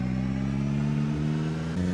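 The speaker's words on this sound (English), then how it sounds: "Listen to that engine purr." A weak 36 HP car engine revs in the zombie survival game Project Zomboid, a loud, steady close-up drone with a rough low rumble and a brief shift in pitch near the end, with no voices over it.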